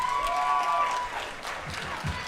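Spectators applaud the junior bench press medalists at a world classic powerlifting championship, a steady wash of clapping from the crowd with a faint tone early on and some murmuring voices.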